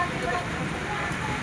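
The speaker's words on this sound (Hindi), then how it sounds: "ये देखिए यहाँ पे मौसम बारिश हो रही है इस टाइम पे" Steady rain falls in Pushkar, a continuous broadband hiss that stays even and fairly close, with no talk over it.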